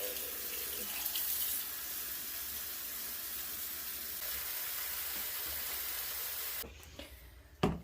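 Tap water runs steadily from a faucet over a wig topper being washed, a broad continuous splashing rush that cuts off near the end, leaving a few faint drips and handling sounds.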